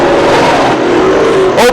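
Modified race cars thunder past at Can-Am Speedway, a loud continuous engine roar with a sharp rise as another car sweeps by, an announcer talking over it.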